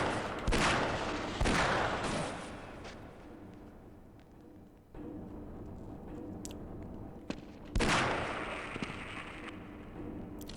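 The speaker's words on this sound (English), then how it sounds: "Where is he firing from?" Gunfire in the video game Half-Life comes as loud, close bursts of rapid shots with sharp cracks, then quieter scattered pops and another heavy burst, each trailing off in a rumbling decay.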